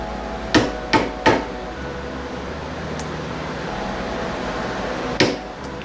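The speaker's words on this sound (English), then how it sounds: "center punch 4 holes here" A hammer drives a center punch into a custom dash console on a Harley Road King, marking hole positions: three sharp, close taps in quick succession, a long pause, then a fourth strike, all near and clear.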